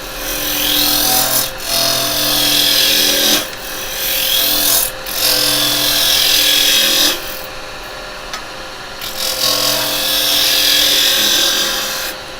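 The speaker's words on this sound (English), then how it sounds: "So this would just be a standard roughing gouge. Again, handles right down, there's the bevel, and I'm cutting above." Roughing gouge cutting a spinning wood blank on a lathe, a steady close rasping scrape that pauses briefly between passes and resumes, with no talking.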